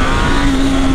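A brand-new motorcycle engine revs loudly while being broken in, a sustained close roar with a steady pitch and no talking.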